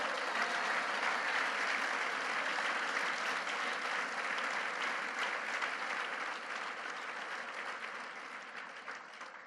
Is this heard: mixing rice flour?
no